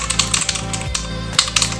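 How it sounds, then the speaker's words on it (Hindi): Quick, loud typing on a Redgear Shadow Blade MK853 RGB mechanical keyboard with blue switches: crisp, clicky keystrokes in a dense, uneven run, close to the mic, with no talking. "और इसकी टाइपिंग को भी आप देख सकते हैं, टाइपिंग साउंड कितनी जबरदस्त है।"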